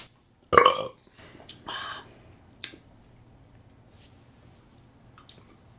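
One loud, short burp after drinking US Mountain Dew soda, close to the mic, followed by a few faint clicks and small handling noises in a quiet room.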